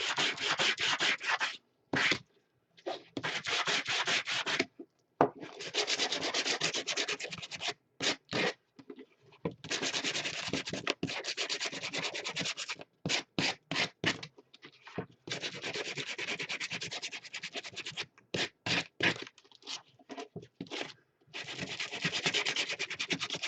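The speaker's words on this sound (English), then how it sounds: "So I'm going to really sand this because I want to add some" Sanding block rubbed hard across a metal tin for a craft project, long bursts of harsh scratchy rasping broken by short pauses and quick strokes, close and steady with no talking.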